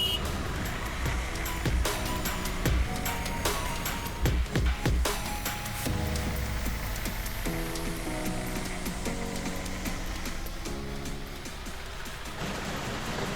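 Heavy road traffic near Mahabaleshwar, with a constant engine drone from nearby vehicles, scattered horn toots and clicks, and a rising engine whine over a busy, congested roadside.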